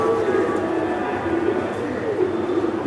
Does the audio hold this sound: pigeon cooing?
yes